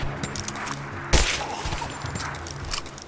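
Gunfire in the video game Rise of the Tomb Raider, with one sharp loud shot standing out among fainter scattered pops and game noise, heard with no talk.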